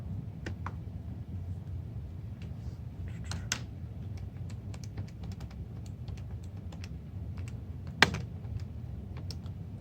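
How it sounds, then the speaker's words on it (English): Sparse, light key clicks as numbers are typed into a calculator, a few taps spread across a steady low room hum, with no talking. "Now I'm going to have to type these in a calculator."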